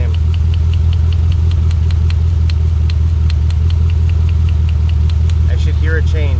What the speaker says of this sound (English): And the engine sounds exactly the same.